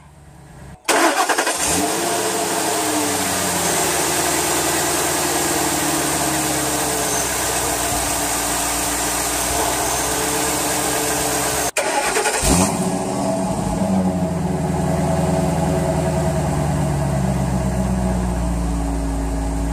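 A 2004 Ford F250 Super Duty pickup with the 5.4 Triton V8 and 266,001 miles cranks and catches, then idles and revs, cuts out briefly and restarts, running loud and close throughout.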